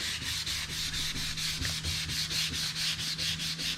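Parts from a Camaro Z28 are sanded with steady, fast back-and-forth rubbing strokes, close and continuous, over a low steady hum.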